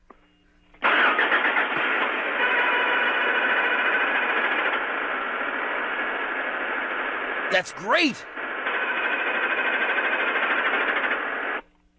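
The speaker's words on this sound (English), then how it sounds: "You'll hear the car begin, and then the engine, you hear the engine, the noise stops, and then it continues again." A car engine cranks and starts, then runs steadily at a loud, close level, cutting out briefly with a sharp chirping rattle before resuming its continuous drone until it stops; a short spoken remark comes over it.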